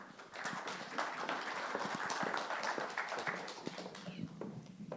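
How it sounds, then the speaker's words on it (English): A room full of people claps in a dense, sustained burst of applause that tapers off toward the end. "a round of applause"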